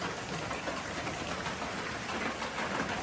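Rain falling steadily on a goat farm in rural Kerala, a dense, even hiss at moderate loudness with no pauses and no voices.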